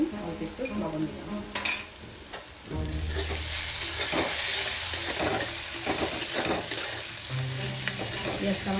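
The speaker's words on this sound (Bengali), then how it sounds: "পেঁয়াজটা আমার এরকম কত সুন্দর ভাজা ভাজা হয়ে গেছে" Onions frying in a pan: quieter clinks and stirring at first, then a loud, continuous close sizzle with stirring scrapes for the rest, no talk.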